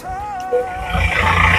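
A steady tonal whine gives way to a loud, rushing hiss of steam escaping from a coal-fired steam locomotive in Darjeeling, swelling and building toward the end.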